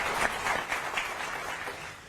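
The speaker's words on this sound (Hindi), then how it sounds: "मैं चाहूंगा एक बार जोरदार तालियां हमारे इन दोनों इनोवेटर्स के लिए" A studio audience at a televised innovation event applauds two innovators, with many hands clapping in a steady, fairly loud burst that fades slightly toward the end.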